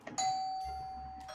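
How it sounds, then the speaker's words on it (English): A doorbell rings once in a quiet home, a clear electronic chime with a sustained tone that fades slowly over about a second, alone without talk. "as the doorbell rang"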